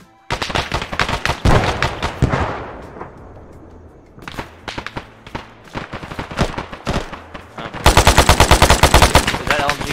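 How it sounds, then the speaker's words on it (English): Light machine gun fire in the Arma video game: dense bursts of rapid automatic shots, loud and close, broken by short pauses, with a sustained rattling stream near the end. "Is that LMG? That's LMG, it's not us, right?"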